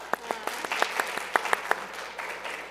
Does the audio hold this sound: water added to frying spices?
no